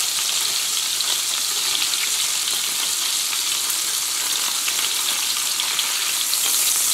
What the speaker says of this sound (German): Minuten kommt der Saft einer halben Zitrone in die Pfanne. Das wird dann aufschäumen